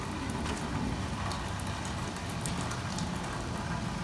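Steady rain falling outdoors, a dense even hiss with faint scattered drop patters, continuous and moderately loud throughout with no voices.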